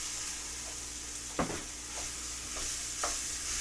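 Ingredients for lasagna sizzle in a skillet under a soft steady hiss, broken by a few scraping stirs, one louder knock and another later scrape.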